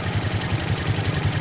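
A Honda Supra X 125 motorcycle engine runs with its throttle being worked, giving a fast, pulsing low thrum that stays fairly even through a short, close burst.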